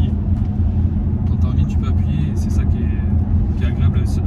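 An Audi SQ7 ABT with a 4.0 TDI V8 diesel makes a loud, deep, steady rumble inside the cabin while people talk over it throughout.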